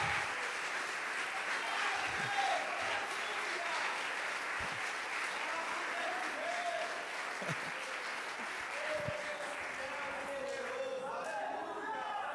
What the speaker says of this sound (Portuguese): Quem crê aplauda e glorifique a Jesus